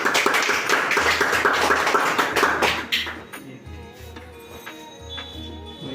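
A group of people claps in a mobile phone repair shop, dense rapid clapping that is loud at first and then thins out into scattered claps.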